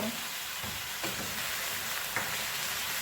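Chicken feet adobo sizzling as it is sautéed in soy sauce in a pan, with a continuous close hiss and a few clinks and scrapes of stirring.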